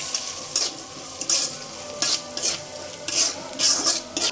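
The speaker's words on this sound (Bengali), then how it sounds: "চিংড়ি মাছটা পেঁয়াজের সাথে ভেজে নেব" Shrimp frying with onion, turmeric powder, chili powder, salt and green chilies in a pan, with repeated bursts of stirring and scraping over a steady sizzle, close and fairly loud, no talking.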